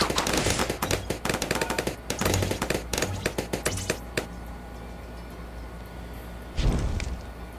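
Cannons in the Bloons Pop video game fire in rapid bursts of sharp popping shots, several volleys in quick succession, then a pause and one final loud burst.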